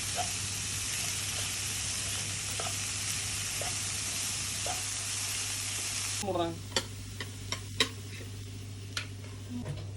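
Bitter gourd stir-frying in a pan with tamarind, a steady close sizzle for about six seconds that then drops away, leaving scattered clinks and taps of a utensil against the pan.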